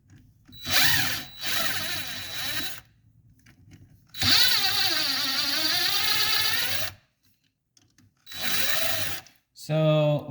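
An impact wrench loosens clutch bolts on a dirtbike with a wet clutch, firing in four loud, close bursts of hammering whir separated by short silences, the longest burst lasting nearly three seconds.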